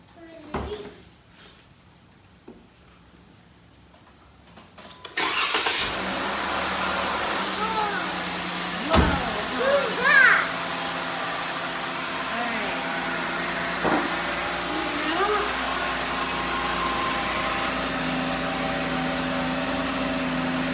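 After a quiet stretch, a car engine fresh from an oil change cranks and catches, then settles into a steady, moderately loud idle that carries on with a few faint knocks and clicks over it.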